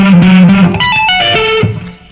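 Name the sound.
electric guitar tapping lick with string skipping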